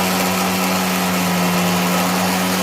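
Mixer grinder whirring at high speed while blending onion, tomato, garlic, ginger and chili into a paste, a loud steady motor whine with a constant hum, close and uninterrupted.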